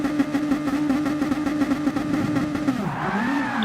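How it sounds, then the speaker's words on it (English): Race car engines revving together on a starting grid, a loud sustained droning roar from the pack that climbs in pitch toward the end as revs build. "We hear the revs come up from all the cars on the grid"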